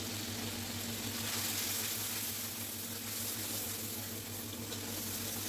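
Spices with salt, turmeric, chili powder and onion-garlic paste fry in oil in a pan, giving a faint, steady sizzle with a low hum underneath.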